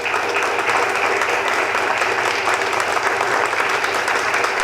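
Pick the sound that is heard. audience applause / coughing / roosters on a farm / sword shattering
audience applause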